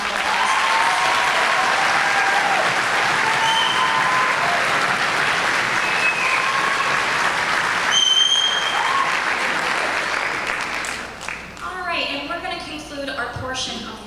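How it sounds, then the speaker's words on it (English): A school auditorium audience at a seventh-grade spring concert gives a long, loud round of applause for the soloists, dense clapping sustained for about ten seconds before tapering off as voices rise in the hall. "give them a round of applause"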